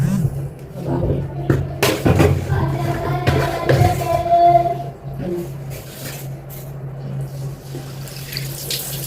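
Tap water runs and splashes as a vacuum cleaner's suction part is washed, with intermittent splashing and handling noises close by while a person talks.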